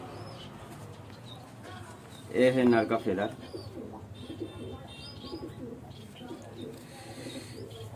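A white male pigeon with a little red near the beak gives a short, throaty burst of cooing close by, between stretches of quiet handling noise, while someone talks.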